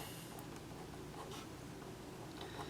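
A pen scratches steadily across paper while equations are written out by hand for a river crossing problem, quiet and close with soft rhythmic strokes and no voice.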